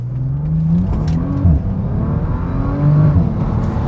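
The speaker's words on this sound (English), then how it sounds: "you should never underestimate its ability to sprint away from the line" A Bentley Continental GT pulls hard away from a standstill, its engine note climbing through rising revs with a shift-like dip, loud and close with a steady roar and no talking.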